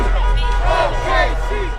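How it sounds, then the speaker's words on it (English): Oklahoma City Thunder fans roar and cheer at their team's first NBA championship celebration after a Game 7 victory, a loud, continuous outdoor crowd din with shouting voices and babble. "That's the sound of Oklahoma City Thunder fans celebrating their squad's first championship"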